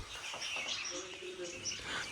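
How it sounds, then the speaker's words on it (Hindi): Birds chirping and calling from a sunny balcony in the Jim Corbett jungle on a morning, with several light tweets and short whistled notes over a soft, steady background hiss. "चलो अब देखना किस तरह से चिड़ियाएँ बोलेंगी।"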